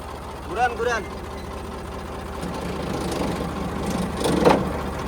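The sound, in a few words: tractor engine running with rotary tiller spinning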